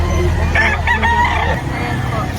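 A Talisayin rooster crows once at a poultry market in Lipa, Batangas, loud and close, over a constant engine-like hum, with people talking in the background.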